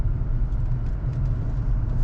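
Low, steady road and engine rumble inside a white 2019 Honda Clarity Touring plug-in hybrid on a test drive, a constant cabin drone with no voices.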